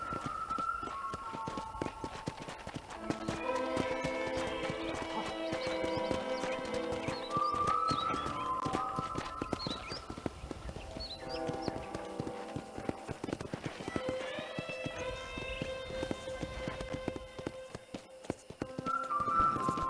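Horse hooves in the Western video game Red Dead Redemption, a steady clip-clop rhythm under an orchestral music score, with an occasional whinny.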